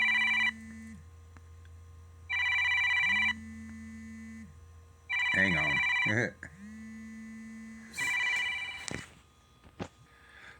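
An old-style telephone bell rings in several distinct repeated bursts, loud and close, with a person briefly speaking between rings.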